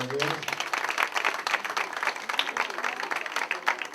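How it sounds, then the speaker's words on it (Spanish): Audience applause at a gathering, a fairly close wash of clapping with uneven bursts that keeps going throughout, with a voice partly heard under it. "nos queremos pedir un aplauso"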